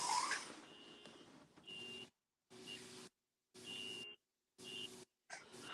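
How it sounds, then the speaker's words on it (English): A car alarm sounds outside a house in a repeating pattern of tonal blasts about a second long separated by short gaps, muffled and moderately distant. "there is an alarm going off in a car"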